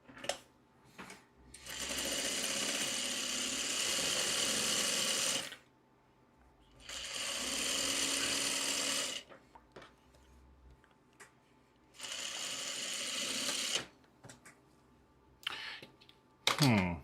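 A sewing machine stitching fabric in three steady whirring bursts of a few seconds each, separated by pauses with small handling clicks, close by and fairly loud.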